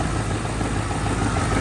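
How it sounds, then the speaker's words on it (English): A manual-swapped 2011 Ford Crown Victoria idles with a steady, close engine rumble, a faint knock from the throwout bearing mixed into the continuous drone. "you might be able to hear that little knocking noise"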